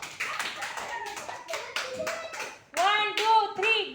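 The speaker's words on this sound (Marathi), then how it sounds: "जोरात टाळ्या वाजवायच्या आहे आयुषसाठी." A group claps loudly for a young child who has shown his number-reading practice, a short burst of applause mixed with excited voices and children's chatter that swells near the end.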